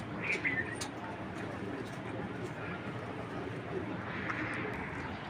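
A leadership pigeon at a pigeon seller's coos softly amid a dense, steady wash of background noise, with a faint voice also present.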